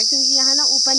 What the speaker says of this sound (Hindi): ये कोई ना यहाँ पेड़ पे ना चिंचारू बैठ रखा है।